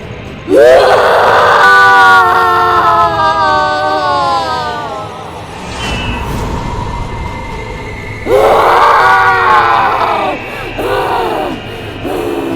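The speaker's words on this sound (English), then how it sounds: "that invisible black shadow started screaming" Loud, drawn-out wailing screams from a shadow creature in a horror cartoon come in two long bursts, the first sustained for several seconds and the second broken into shorter cries, over a constant rumbling background.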